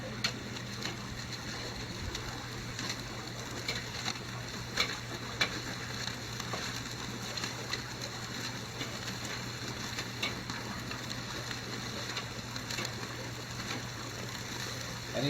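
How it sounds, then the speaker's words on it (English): Steaks and stuffed Inferno chillies searing over an oak fire, a soft steady sizzle and crackle with small scattered pops, faint and even throughout with a low hum beneath. "we're going to let them sear this time with that nice oak smoke"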